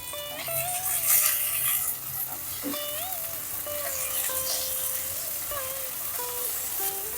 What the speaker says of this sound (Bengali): দেখুন পেঁয়াজটা ভাজা ভাজা হয়ে গেছে আমি এবার এই টমেটোটা দিয়ে দেবো